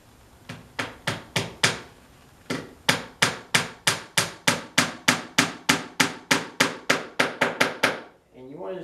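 A hammer taps brad nails into a recessed screen door frame, with sharp, close strikes coming in quick bursts of several blows and short pauses, the rhythm even and loud, with no talking.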